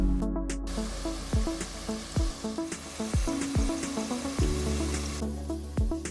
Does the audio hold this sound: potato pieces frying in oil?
yes